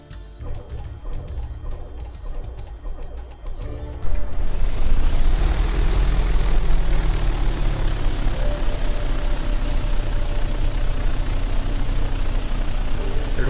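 A Piper PA-28 Arrow III single-piston engine in X-Plane 11 cranks, then catches at about four seconds and settles into a loud, steady rumbling drone that continues to the end.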